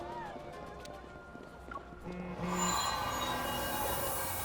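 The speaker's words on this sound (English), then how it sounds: "Amidst the panic, the train exits the tunnel." In the Love and Deepspace game, a train bursts out of a tunnel: a quiet hum with faint squealing wheel tones swells into a louder, brighter rush of rolling carriages as it emerges, with talk in the background.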